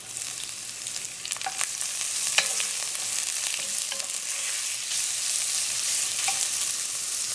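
Onions and green peppers with green seasoning sauté in a pot for Trinidadian corn soup, giving a steady, close frying sizzle with a few sharp pops and stirring clicks throughout, no voices.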